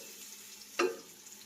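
Onions for prawn biryani fry in a pan with a faint, steady sizzle, and one brief stirring clatter cuts through near the middle.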